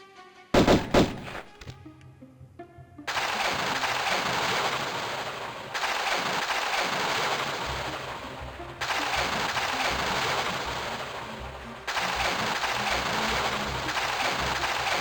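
Repeated bursts of gunfire from an enemy in Tomb Raider 1 Remastered, loud and dense in long sustained stretches with brief breaks, following a few louder thuds at the start.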